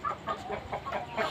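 Hens and roosters in a pen cluck in a quick series of short, close calls, with several birds chattering over one another.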